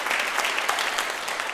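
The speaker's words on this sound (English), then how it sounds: "this is going to be a really big opportunity for you to clap" Steady applause from a large audience at a school district State of the District gathering, dense continuous clapping throughout without pauses.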